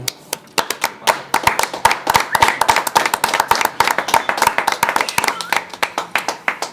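At a dinner show in Chambéry, an audience claps steadily in sharp, close, irregular hand claps for several seconds, with voices faintly audible beneath.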